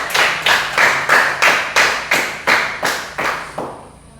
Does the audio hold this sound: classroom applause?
yes